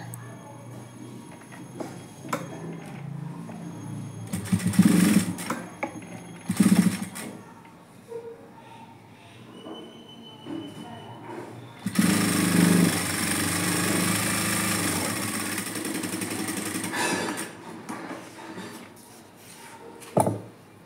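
Sewing machine stitching a simple blouse, running in a few short bursts early on, then a long steady whirring run of several seconds, fairly close with no talk.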